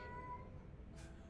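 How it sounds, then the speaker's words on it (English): A short, faint meow from a man in the video game Skyrim sounds over a low background rumble, brief and alone. "If you hear him meowing."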